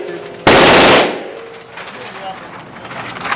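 An M249 SAW machine gun fired at an indoor shooting range in Las Vegas, heard as one short, very loud close burst that fades into a ringing room tail.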